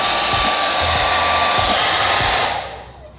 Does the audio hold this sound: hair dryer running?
yes